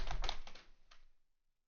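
Quick burst of clattering keystrokes on a computer keyboard during an NFL game session, several sharp taps close together and then fading to silence, no speech.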